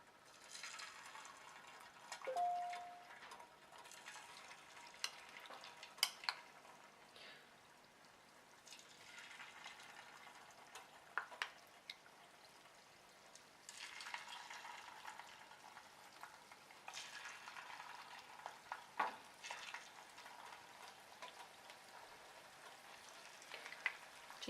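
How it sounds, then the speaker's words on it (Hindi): Chicken pieces frying in hot oil for restaurant-style Indian chilli chicken, a steady soft sizzle with crackling bursts and occasional louder pops and spatters, fairly close, no talking. "अब हम इसमें चिकन पीसेस को फ्राई कर लेंगे।"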